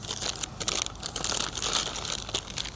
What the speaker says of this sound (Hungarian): Leragasztott papír zacskó.